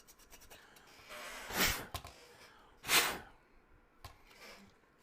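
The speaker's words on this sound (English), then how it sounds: "Some more rubbing alcohol. Clean, clean, clean." Rubbing alcohol is wiped and scrubbed over an MSI Mech RX 5700 graphics card. Two soft, brief rubbing strokes are followed by a faint third, very quiet and close, with no talk.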